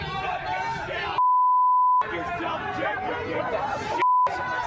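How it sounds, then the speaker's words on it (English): Two steady, loud tonal censor beeps cut into rally crowd chatter and talking, the first about a second long, the second shorter. "My assumption is every beep is covering up a slur."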